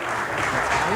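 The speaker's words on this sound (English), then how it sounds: "Give them a round of applause, ladies and gentlemen." A crowd applauds loudly and steadily at the end of a junior heat at the New Zealand shearing championships, with dense clapping continuing throughout.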